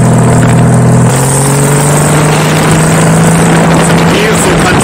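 A custom Honda Valkyrie bobber motorcycle cruises through English countryside with a loud, steady engine drone and strong wind rush. The engine note drops slightly after the first second as the rider shifts or eases off.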